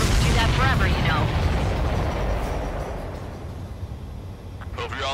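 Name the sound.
explosions in the video game Ace Combat 7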